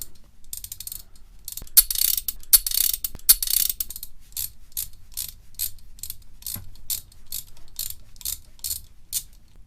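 A freshly oiled Belzer ratchet tool clicks rapidly in bursts, then settles into a steady, evenly spaced series of crisp mechanical clicks, close and alone.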